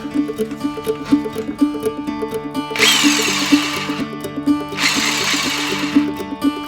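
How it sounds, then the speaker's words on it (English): A power drill, plugged in to test an outlet, whirs in two short bursts over a busy background of clattering, rhythmic knocking. "Get me a power tool here."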